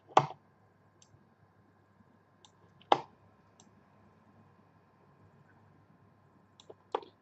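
A few sharp, isolated computer keyboard keystrokes while a command is typed: three louder clicks spaced seconds apart, with fainter taps in between, in a quiet room.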